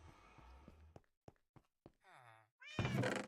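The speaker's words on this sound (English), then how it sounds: "I hear you, kitty. I hear you." A cat meowing in the Minecraft video game, one clear wavering meow then a louder drawn-out cry, among soft thunks and footstep-like taps.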